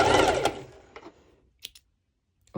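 A sewing machine runs a short straight stitch through bikini fabric, a brief burst of rapid needle chatter that cuts off, followed by a few scattered soft clicks and taps in a quiet room.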